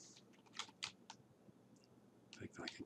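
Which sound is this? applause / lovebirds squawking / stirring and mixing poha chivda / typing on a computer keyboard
typing on a computer keyboard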